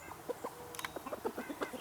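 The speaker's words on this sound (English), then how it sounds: "I see a chicken right down in there." A hen hidden low in weeds gives soft, quiet clucks in a scattered run of short calls, faint and fairly close, with no talking.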